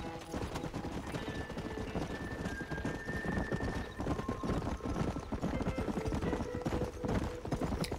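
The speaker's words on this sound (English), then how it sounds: "Ganz früh am Morgen haben wir also Mustangs zum Eintreiben." Mustangs galloping in the video game Red Dead Redemption, a dense, steady drum of many hooves clip-clopping with occasional whinnies, continuous and fairly faint throughout, with background game sound.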